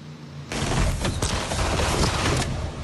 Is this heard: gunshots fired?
yes